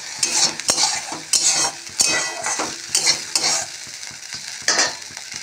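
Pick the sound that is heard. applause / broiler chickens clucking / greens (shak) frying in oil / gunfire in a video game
greens (shak) frying in oil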